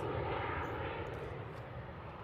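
A business jet taking off at Boeing Field, a broad steady engine roar filling the short stretch, loud and sustained with a slight easing toward the end.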